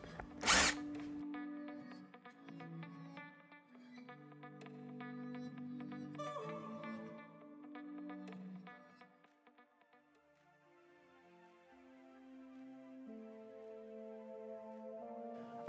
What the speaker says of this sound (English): we're going to drill another hole through the top of the bracket